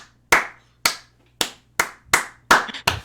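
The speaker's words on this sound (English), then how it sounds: "As people are like clapping for her." Seven sharp hand claps ring out one at a time at a steady, slightly quickening pace, each loud and close with a short decay, over a quiet low hum.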